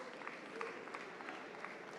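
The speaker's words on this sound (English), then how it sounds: "Let's give Paid also a round of applause" Audience applause at a startup pitch competition awards: a faint, dense wash of many hands clapping from a distance, steady throughout with a few louder claps.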